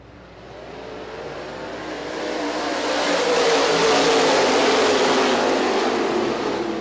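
A field of race cars accelerates together at a green flag restart on the I-96 Speedway oval, a loud, swelling roar of engines building over several seconds and holding steady with no talk.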